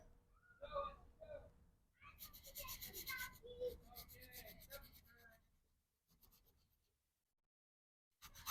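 Acrylic paint edges being rubbed into canvas while painting a stormy seascape with a boat, heard as soft, close scratchy brushing in short strokes, broken by pauses and a stretch of near silence.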